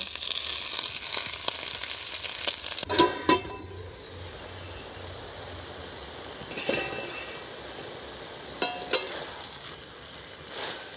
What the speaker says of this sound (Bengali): এখন শাকগুলো তুলে দিলাম সেদ্ধ করে নেওয়ার জন্য।